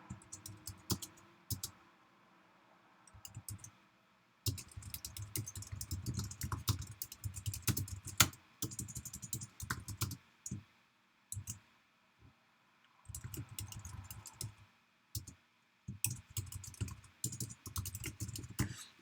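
Computer keyboard typing in quick clattering bursts of keystrokes separated by short pauses. The typing is close and clear, with no voices.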